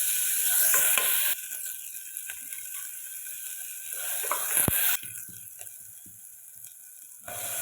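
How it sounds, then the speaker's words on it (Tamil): Two large ground onions sautéing with salt in a pan give a steady broadband sizzle with scattered clicks and scraping ticks, louder at first and easing off midway. "இப்போது வெங்காயம் 2 பெரிய வெங்காயம் அரைச்சி போட்டிருக்கேன். கொஞ்சம் உப்பு போட்டு நல்லா வதக்கிக்கலாம்"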